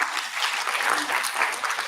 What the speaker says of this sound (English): Applause for madam.